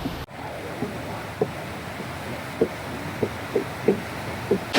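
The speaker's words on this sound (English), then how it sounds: "Here's the Lower Falls." A steady rushing roar of falling water from the Lower Falls in Michigan's wild north fills the scene, constant and moderately loud, with a few faint knocks standing out.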